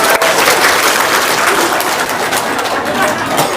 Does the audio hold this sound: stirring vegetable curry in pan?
no